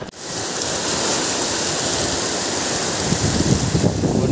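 Heavy rain pours down during a cyclone alongside rushing floodwater, a loud, steady hiss of water that builds slightly toward the end.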